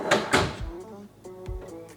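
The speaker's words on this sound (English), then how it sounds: "all of your mahogany drawers have that really cool soft close feature" A mahogany kitchen drawer with a soft-close mechanism glides shut, giving a muffled thump followed by a gentle damped settle, then a second soft close, indoors in a quiet house.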